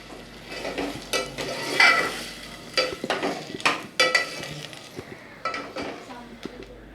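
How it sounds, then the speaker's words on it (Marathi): Black peas stirred in a frying pan with a spoon, a series of scraping, clinking strokes over a low sizzle, irregular and close, no speech. "आणि आपण आता ढवळून घेऊया."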